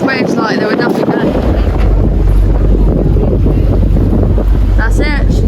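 A sailboat ploughs through rolling ocean waves under surfing sails, with steady loud rushing water and heavy wind buffeting the microphone, and brief voices at the start and end.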